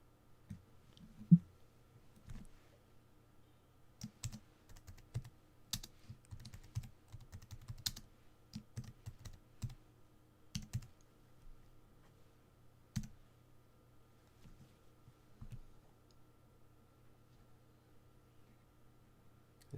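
Keys tapped on a computer keyboard while typing a comment during a live stream, quiet, irregular clicks in short bursts over a low steady hum, with no one talking.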